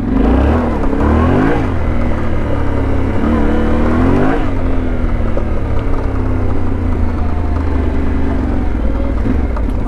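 A new 2022 Yamaha Tenere 700 motorcycle engine revs loud and close while riding off-road, a continuous drone that rises and swells in repeated pulls before settling into a steady hum.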